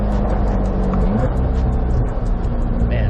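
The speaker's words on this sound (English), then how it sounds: "Let's see if we can get some downshifts." A 2023 Corvette C8 HTC 70th Anniversary convertible with the top down rumbles loudly from inside the cabin, its engine note shifting in pitch around a downshift with a steady, throaty drone and wind noise throughout.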